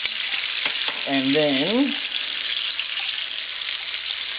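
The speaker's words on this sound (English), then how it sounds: "3, 4 tablespoons of olive oil in there, and I'm gonna add a heaped teaspoon of garlic. Give that a good stir around" Heaped teaspoon of garlic frying in three to four tablespoons of olive oil, stirred around the pan: a steady, close sizzle throughout, with a brief spoken voice early on.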